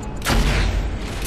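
A frag grenade explodes in Gears of War: Judgment, a single loud, close boom with a broad rumbling burst that rolls on briefly before fading.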